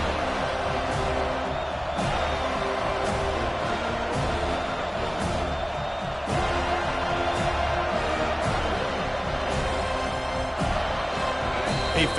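Home crowd at a prime-time football game, a dense, steady stadium roar filling the whole stretch with scattered whoops and sharp thuds, distant and continuous.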